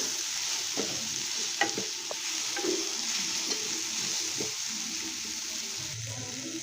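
Masala spices and grated coconut being dry-roasted and stirred in a pan, with a steady low sizzle and scattered scraping taps of a spatula against the pan.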